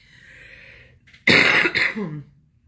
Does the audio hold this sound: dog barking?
no